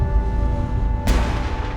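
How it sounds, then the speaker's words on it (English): A single deep boom of cannon fire from the Tower of London bursts out over a low rumbling background and rolls away with a long reverberant tail. "Cannons at the tower fire out, reverberating across London"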